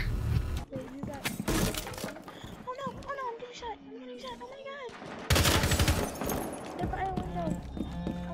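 Rapid bursts of gunfire in a shooter video game, loud and dense, with repeated shots and chaotic clatter, while players shout and talk over the action.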